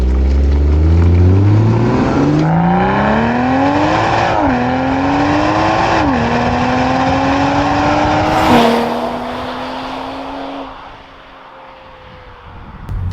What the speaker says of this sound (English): BMW engine.